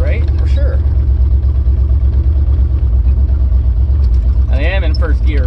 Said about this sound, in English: I am in first gear, but I am dragging the brakes.